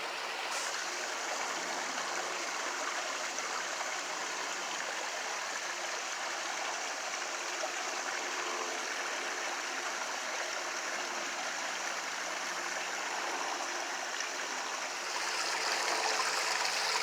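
Steady rushing of a stream during an outdoor nature walk, running water heard close and continuous with a slight rise in splashing near the end.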